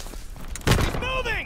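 Gunfire in the Call of Duty WW2 beta erupts as one loud, sharp blast partway through, followed by whining sweeps and battle noise, with voices shouting over the action.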